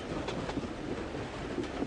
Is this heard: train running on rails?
yes